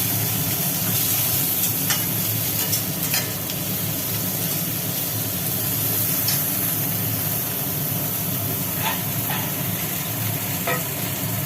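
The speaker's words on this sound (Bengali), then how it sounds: "এটা একটু ভাজি ভাজি হোক" Sliced bitter gourd, onion, potato and pumpkin fry in a pan with a steady, close sizzle and a few scattered sharper crackles throughout, with no voices.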